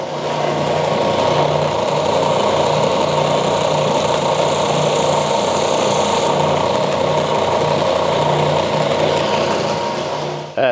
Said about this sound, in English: I'm going to do that the lazy way on a drum sander